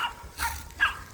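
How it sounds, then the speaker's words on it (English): An excited neighbor's puppy barks outdoors on a spring homestead, two or three short yips spaced across a second, faint and at a middle distance over a low background rumble. "That is my neighbor's dog."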